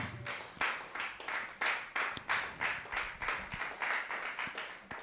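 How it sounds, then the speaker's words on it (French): Church congregation clapping in a steady rhythmic beat with cheering during a worship service, the claps loud and close, repeating evenly for several seconds. "Est-ce que Dieu peut entendre tes acclamations ce matin?"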